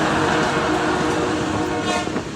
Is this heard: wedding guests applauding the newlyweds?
no